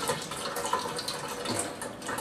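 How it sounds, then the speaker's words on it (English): Water drains and trickles out of a zip bag holding fish fillets, a steady, soft splashing and gurgling wash close by, without talk. "drain the water out without letting any air sneak back in"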